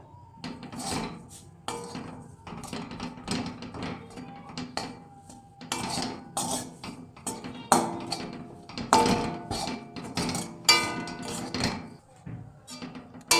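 Puffed rice langcha dough being stirred and kneaded in a metal pot, with repeated close clattering scrapes and knocks of a utensil against the vessel in an irregular rhythm, loud and steady, with no talking.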